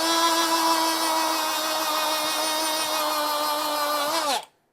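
A die grinder whines steadily at high RPM with a bright, tonal scream held for several seconds, close and loud, then cuts off abruptly as it stops.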